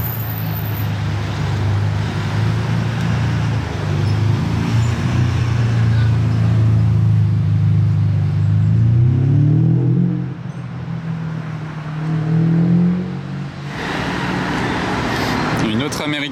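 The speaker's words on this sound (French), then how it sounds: "Encore un autre V12 Ferrari en attendant la 812." A Ferrari V12 supercar engine rumbles loudly and steadily, with rising and falling pitch as it drives past among traffic noise, briefly easing before swelling again.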